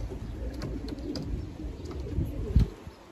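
Pigeons cooing softly in a loft, low murmuring coos repeating close by with faint rustling in the background.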